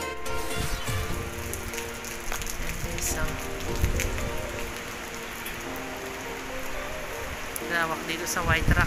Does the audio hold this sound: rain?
yes